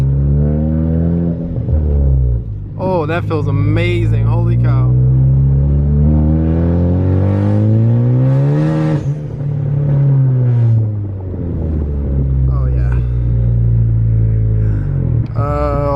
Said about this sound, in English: I forget how noisy this car is.